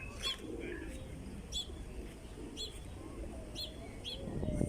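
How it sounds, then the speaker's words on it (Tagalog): Many pigeons gather in a Vienna city square, giving short, repeated cooing and chirping calls at regular intervals over a steady outdoor hum. "At ang dami ng kalapati sa ilalim na mamahinga."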